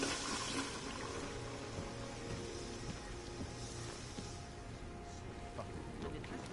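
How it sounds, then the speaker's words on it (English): Steady hiss of a shower running inside an apartment bathroom in the stealth game Deus Ex Mankind Divided, a continuous broadband spray of falling water that holds at an even level throughout, with faint speech underneath. "I can use their shower."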